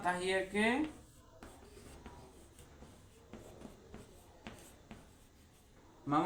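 Chalk or marker strokes on a classroom board during a Bengali grammar lesson, a series of soft scratchy taps and short scrapes between brief pauses, with a teacher talking at the start and end.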